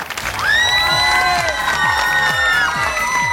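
Audience at a televised talent show cheering, whooping and shouting loudly as contestants leave the stage, a sustained burst of crowd noise close by with scattered applause.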